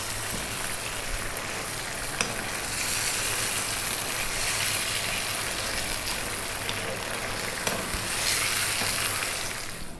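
Pork ribs sizzling and frying as they are tossed in a sticky Chinese-style sauce in a pan, a steady loud crackle running throughout with no talk.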